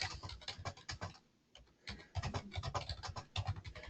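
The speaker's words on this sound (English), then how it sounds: "Amber, and we'll type a message." Typing on a laptop keyboard, quiet fast clicks in uneven bursts with a short pause partway through, close and alone.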